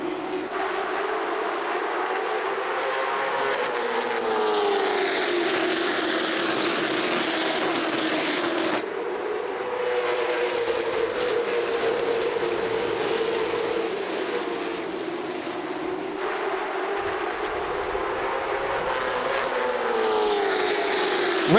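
CARS Late Model Stock Tour race cars roar together at the start of the Virginia Is For Lovers 125, a loud steady engine drone rising and falling as the field passes through the start zone, with no talk over it.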